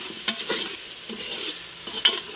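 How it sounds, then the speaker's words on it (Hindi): Mutton with salt, red chilli and turmeric is stirred and fried in a pot, giving a soft sizzle and a few scraping strokes of the spoon, close and fairly quiet. "थोड़ा सा इसको भूनना बस"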